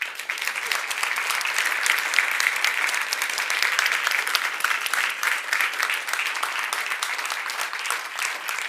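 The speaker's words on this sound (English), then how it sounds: "give a round of applause to our great speakers" Sustained applause from a crowd fills the whole stretch, a dense, steady patter of many hands clapping with no pauses.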